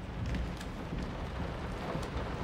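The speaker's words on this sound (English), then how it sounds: "Yeah, that rain is so loud." Steady heavy rain falls in the horror video game Layers of Fear, a dense continuous hiss with a low rumble underneath and no voices.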